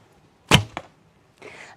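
A biocomposite Hungarian-style bow releases an arrow: a sharp, loud twang, a quick secondary snap a moment later, then a softer rushing hiss as the shot settles, with no voices.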